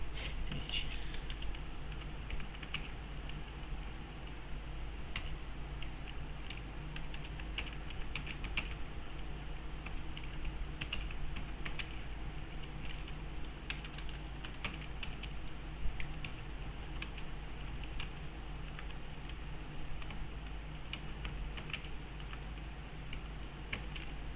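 Computer keyboard being typed on while building a blog site, continuous soft clicky keystrokes at an uneven pace, faint and close, over a steady low background hum.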